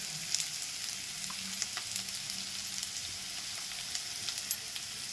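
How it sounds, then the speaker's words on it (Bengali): Potatoes and onions frying in a pan with ginger paste, a soft, steady sizzle with faint crackles and an occasional light stir, close but fairly quiet and with no voices. "ভেজে নিয়েছি দেখুন আলু পেঁয়াজ"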